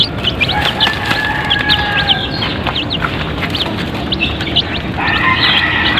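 Chickens of a Chinese breed and brown Texas breed, heard as steady clucking and chirping calls throughout, with a continuous low background noise beneath.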